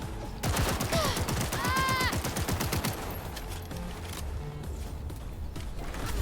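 Pistol fire in the Cyberpunk 2077 video game comes in a rapid burst of sharp, loud shots over the first few seconds, followed by quieter game ambience.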